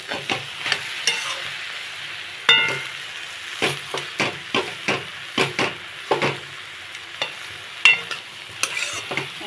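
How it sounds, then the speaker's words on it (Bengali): Potato pieces fry in hot oil in a pan, a soft sizzle under repeated rhythmic scrapes and knocks of a spatula stirring, about one stroke every half second. "আমি কয়েক টুকরা আলু একটু ভেজে দেবো"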